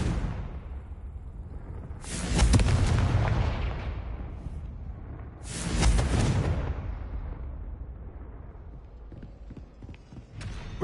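Confringo blasting-curse explosions from a Hogwarts video game: two heavy booming blasts a few seconds apart, each with a rumbling decay, over constant low background rumble.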